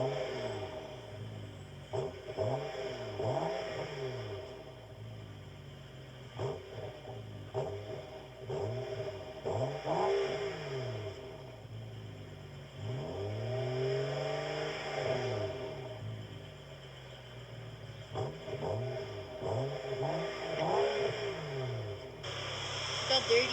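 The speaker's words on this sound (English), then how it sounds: "this is what Julian's car sounds like before he installs his downpipes" A stock BMW E92 with the N55 engine, before a downpipe install, runs and revs with a smooth, low, muted exhaust note rising and falling in repeated sweeps, moderately close.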